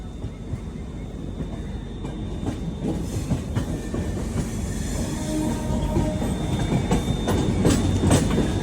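The Chennai Central to Delhi Duronto Express rolls along the rails near Vijayawada with a loud, continuous rumble and rhythmic wheel clacks that grow denser and stronger toward the end.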